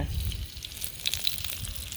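Spices sizzling in hot oil in a heated wok, a soft continuous crackle and hiss with a few small pops, close and fairly quiet, with no talk.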